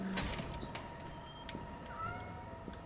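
A cat meows in the modded video game Lethal Company. Short, fairly faint mewing calls sit over a busy background of game noise.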